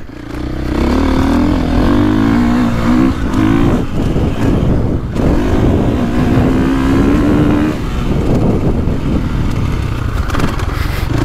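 A 2024.5 KTM 450 Factory Edition dirt bike is ridden on wet gravel, its engine revving up and down in loud, close bursts with rising pitch sweeps and brief throttle-offs, plus wind buffeting.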